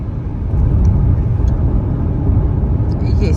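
Steady road rumble of cars passing along a highway in Orenburg Oblast, heard from inside a moving car as a continuous broadband whoosh with no clear individual pass-bys.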